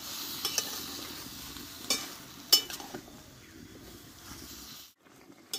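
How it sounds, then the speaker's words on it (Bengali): Tomatoes being sautéed in a pan for tomato chutney, giving a soft, steady sizzle close by, with a few scraping stirs before the sound briefly drops away near the end. "এইভাবে আমি 4 থেকে 5 মিনিট মতো, খুব অল্প আছে, আমি টমেটোটা একটু কষে নেব।"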